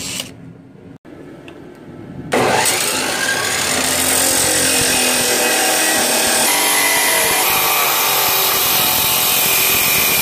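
A power tool cuts an 18.5 inch length of tie rod, starting after a quiet pause with a few handling knocks, then a loud, sustained cutting whine that holds steady to the end with no voices.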